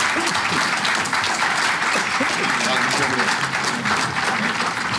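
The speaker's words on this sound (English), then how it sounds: "Let's give this man a round of applause." A crowd at the 2018 Memorial Day parade event in North Haven applauds, a steady, dense wash of clapping throughout with voices mixed underneath.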